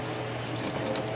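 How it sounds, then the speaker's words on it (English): Tap water runs steadily over green bananas being rinsed under the stream, a soft, continuous splashing close by with no talk. "if you clean it under water like this"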